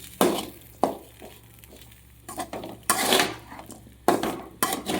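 A metal spoon scrapes and knocks around a pan of raw banana fry in several uneven strokes, with short clanks between quieter stirring, close and fairly loud.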